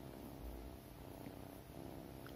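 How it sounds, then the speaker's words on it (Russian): A domestic cat purrs softly and steadily while lying asleep beside a person, a low continuous rumbling hum close by with no talking. "Тихо так мурчит моторчик,"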